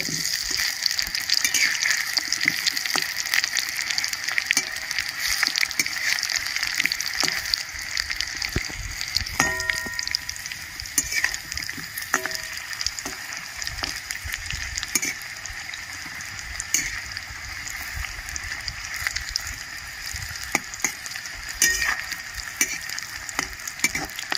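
Food fries steadily in a pan with a continuous loud sizzle, broken by scraping stir-and-turn sounds and a few sharp utensil clicks partway through, with no talking.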